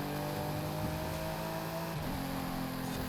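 Dodge Viper V10 engine in Forza Horizon, a steady, loud mechanical drone with a shifting pitch that dips and recovers partway through as the car holds a sustained run.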